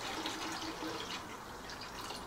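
Leftover coolant water drips and trickles from a removed Kawasaki ZX-14R radiator, a faint, irregular patter of drops close by in a quiet workshop, with no talking.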